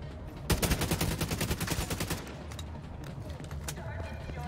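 A rapid burst of automatic gunfire crackles loud and close in The Division 2, a quick run of sharp shots for about two seconds, followed by scattered single shots under game ambience, with a voice talking over it.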